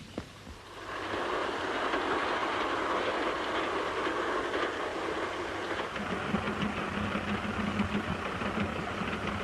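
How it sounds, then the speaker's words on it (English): A steam-era train runs on rails, a loud, steady rumble and rattle of wagons with rhythmic clatter that keeps on throughout, the low drone shifting slightly partway, with no voices. "Look, I can see the train."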